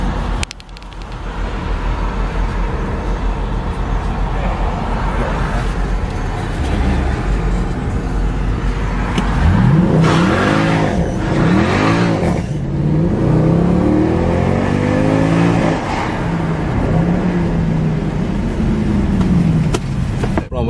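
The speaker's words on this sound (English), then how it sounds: "A little spin in a Aleem's car. C63." A Mercedes C63 engine roars loudly and close up over a constant drone of road noise. Partway through, a run of sharp revs climbs and falls, and no one speaks.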